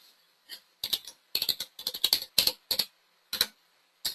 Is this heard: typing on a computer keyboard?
yes